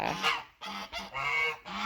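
Farm geese that have been grazing on grass honk several times in quick succession, loud and fairly close, with brief gaps between calls.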